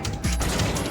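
Machine gun fire from the Metal Gear Solid 2 video game: a dense, continuous burst of rapid shots, loud and close, filling the whole short moment.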